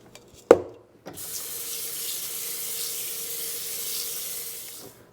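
Tap water runs into a cooking pot for rice, starting after a sharp clunk and rushing steadily with a bright hiss for about four seconds before cutting off.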